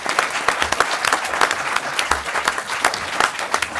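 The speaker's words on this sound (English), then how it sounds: "Let's give them a round of applause." Applause from a round-table audience thanking the panelists after a discussion on antisemitism, dense and loud, sustained clapping throughout with no voices over it.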